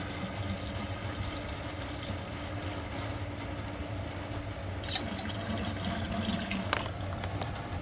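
Water drains steadily from a cleared laundry sink drain in a basement, a continuous close gurgling wash with a faint low mechanical hum beneath and one brief sharp knock midway.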